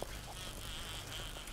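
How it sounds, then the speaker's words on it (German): A bee buzzes in the survival game 7 Days to Die, a faint, steady insect drone holding at a low, even level throughout with no voices over it. "Hier oben kann die Biene hin. Ich höre sie, glaube ich, auch schon."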